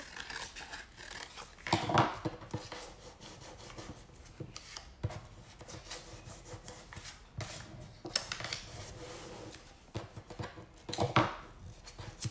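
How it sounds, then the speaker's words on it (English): Scissors snipping through paper while cutting pieces for a paper toaster craft, a few bursts of crisp cutting and rustling strokes close by, with quieter handling between them. "take your scissors and just, you know, go like this and cut it again to all the sides"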